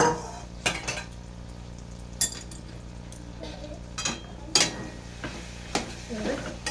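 Boiled potato is stirred and sautéed in a pan for a Bengali chicken chop made with semolina. A spoon scrapes and knocks against the pan in irregular strokes over a quiet, steady sizzle.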